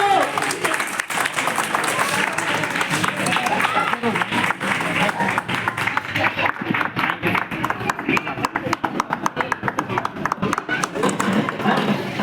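Children clap together at a Republic Day celebration, dense continuous applause at full volume lasting about twelve seconds with voices mixed in underneath.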